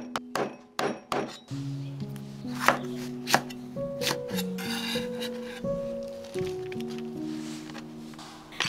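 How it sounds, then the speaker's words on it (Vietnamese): Knife chopping thinly sliced shallots on a cutting board, a quick series of sharp close thunks at first, then steadier rhythmic cuts with faint clinks, no voices. "Hành tím thì mình cắt mỏng như thế này để xào dưa cải nè"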